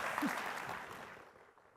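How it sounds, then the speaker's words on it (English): A round of applause from the audience at a summit's opening panel, dense clapping that is already underway and fades out within two seconds, heard at a moderate distance. "let's give up another round of applause for Chancellor Christian"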